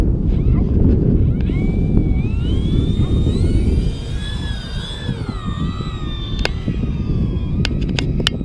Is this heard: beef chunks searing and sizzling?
no